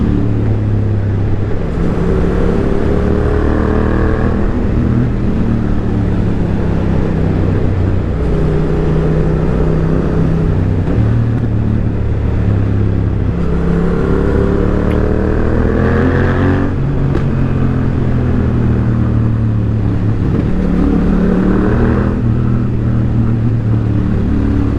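A Yamaha MT-09 motorcycle engine while riding, loud and close, with rising and falling harmonic revs through gear changes and strong low-end drone throughout, no talking.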